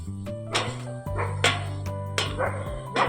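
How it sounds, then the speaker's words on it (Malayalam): A dog barking several times at a steady pace, the sharp barks standing out over a humming tonal background. "അവിടുന്ന് നായ വല്ലാതെ കുരക്കുണ്ടേ"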